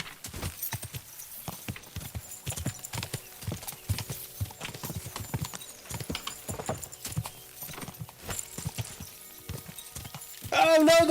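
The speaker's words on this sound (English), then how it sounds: "We'll just wait for that final canter" Rapid clip-clop of a horse cantering in a race in Kingdom Come: Deliverance 2, a steady hoofbeat rhythm over game sounds, with someone talking throughout and a brief whinny near the end.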